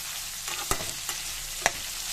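Ivy gourd (dondakaya) frying in oil in a pan, with a steady sizzle broken by three sharp scraping clicks as the pieces are stirred.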